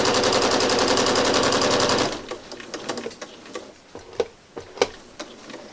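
A sewing machine runs steadily for about two seconds while stitching a line across a King's Pawn quilt made from Twilight Chic fabric, then stops, leaving scattered soft clicks and handling noises.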